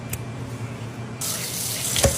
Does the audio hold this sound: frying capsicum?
no